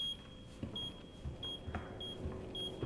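A planted C4 explosive in the video game Resident Evil 2 gives out short, evenly spaced electronic beeps, faint and regular over low background noise, with no talking.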